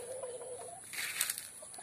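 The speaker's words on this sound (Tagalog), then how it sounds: "Kailangan ingat tayo sa mga ganitong inaalaga nating mga manok." Chickens raised in a backyard flock cluck softly, with a brief flurry of higher calls and faint rustling in the middle of the short stretch, fairly distant and low in level.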